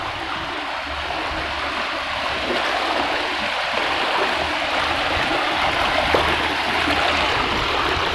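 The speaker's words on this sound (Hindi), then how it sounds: "अभी हम जो आबशार का नज़ारा देखेंगे" Water pours steadily at the Fort Munro waterfall near Sakhi Sarwar, a constant broad rushing roar with no breaks, close and fairly loud, with no voices.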